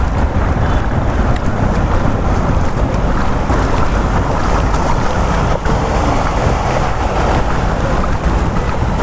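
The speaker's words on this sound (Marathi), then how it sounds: "एवढा पाऊस आहे एवढा पाणी भरलं इथं" A loud, constant roar of heavy monsoon rain and rushing floodwater over a road in Nalasopara, Vasai-Virar, dense and unbroken throughout.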